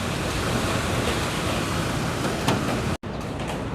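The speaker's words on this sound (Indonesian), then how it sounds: "Kita lihat anginnya." Wind blows steadily outdoors in cool, post-rain weather, a broad rushing noise buffeting the microphone, with a brief dropout near the end.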